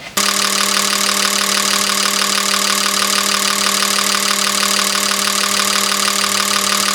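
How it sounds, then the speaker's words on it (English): An Autool CT200 fuel injector tester runs continuously with a steady, mechanical hum and rapid ticking pulses, starting abruptly and sounding much like an idling engine, close and loud with no talking. "It's amazing how much this sounds like an idling engine."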